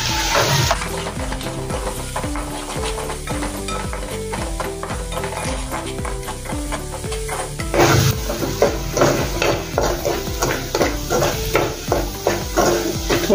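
Gawar bean sabzi with green coriander masala is stirred in a pan, giving a continuous loud sizzle with regular scraping strokes of a spoon, the hiss brightening midway.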